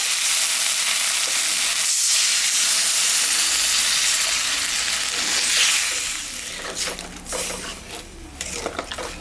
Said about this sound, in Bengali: আমি একটু সামান্য জল দিব